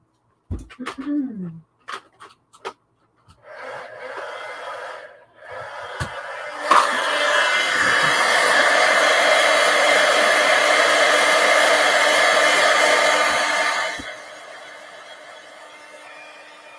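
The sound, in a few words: heat tool (embossing heat gun) blowing hot air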